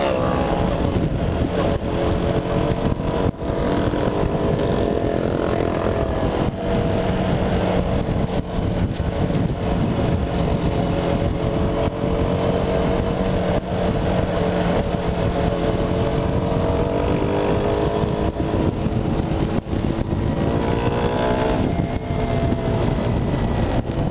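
A small 200cc motorcycle engine drones steadily at full throttle on a ride in the Philippines, its tone shifting slightly as it pulls, with heavy wind noise throughout.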